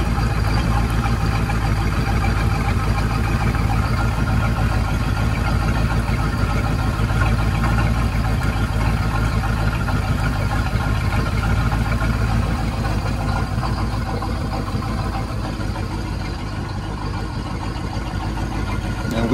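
A boat engine runs steadily during winterization with antifreeze flowing through it, a constant loud low rumble that holds unchanged from start to finish with no talking.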